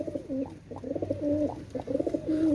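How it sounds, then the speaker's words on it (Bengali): Pakistani Kasuri pigeons cooing nearby, repeated low throaty coos in a steady rolling rhythm with no voices over them. "এই দুটো হচ্ছে কাশুরি কবুতর পাকিস্তানি কাশুরি কবুতর"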